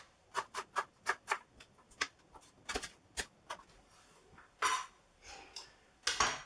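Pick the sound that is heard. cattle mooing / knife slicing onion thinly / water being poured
knife slicing onion thinly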